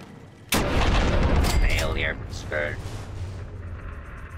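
Shotgun slug fire at robots in the video game Fallout, a sudden loud blast that rolls on into a long booming tail, with electronic tones and a voice partly over it.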